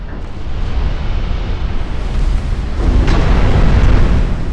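Torpedo hits on ships in the naval game Ultimate Admiral: Dreadnoughts, heard as a loud, continuous low rumble of explosions that builds toward the end, with no talking.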